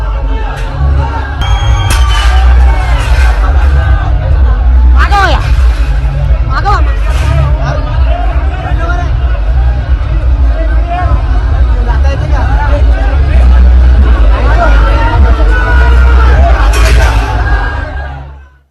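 A dense crowd of political party workers clamors loudly and without pause at a welcome for Raj Thackeray, many voices overlapping with occasional shouts and whoops, close by throughout.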